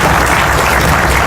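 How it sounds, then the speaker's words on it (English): Loud, dense applause from a large crowd at a police precinct grand opening, sustained and even with no break, clapping filling the whole moment. "Please, give them a round of applause."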